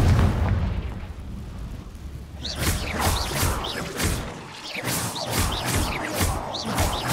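Confringo blasting spells burst repeatedly in Hogwarts Legacy, a rapid series of sharp explosive pops and crackles following a quieter rumbling opening, with no voices.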